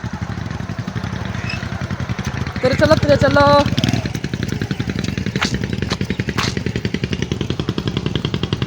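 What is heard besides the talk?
motorcycle riding slowly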